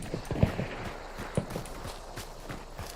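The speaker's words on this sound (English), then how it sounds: "horses are one of the loudest sound traps in this game" Horse hooves clip-clop in a video game set in a bayou, a run of close, uneven footfalls with a few louder strikes over a busy ambient background.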